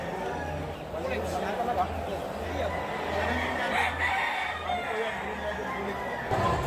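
Roosters crow at a poultry expo amid a crowded hall, with people talking throughout.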